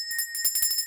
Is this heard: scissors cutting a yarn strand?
no